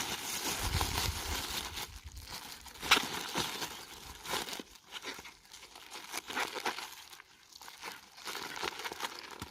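Plastic bag crinkling as freshly picked sesbania flowers and vegetables are packed outdoors, a steady run of close rustles and crunches with one sharper rustle near the start, no talking.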